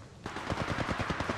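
Rapid automatic gunfire in the mobile shooter Apex Legends Mobile, a fast burst of sharp, evenly spaced shots that starts abruptly and rattles on steadily at close range, with no talking.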